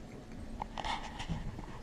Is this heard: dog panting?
yes